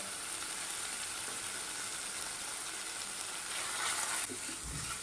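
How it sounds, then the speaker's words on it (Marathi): Mawa (khoa) roasting in ghee in a kadhai over medium heat, a quiet continuous sizzle with faint stirring scrapes and a soft bump of the spoon near the end. "एकदम मध्यम गॅसवरती आपण चांगल्याला भाजून घेऊया"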